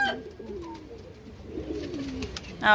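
Pigeon cooing and soft wing or body shuffles close by in a quiet home, with a sharper burst of sound near the end.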